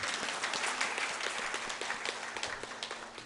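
Audience applause at a district talk concert in Jongno: many hands clap in a quick, fairly dense patter at moderate distance. The clapping is quiet overall and thins slightly toward the end, with no speech.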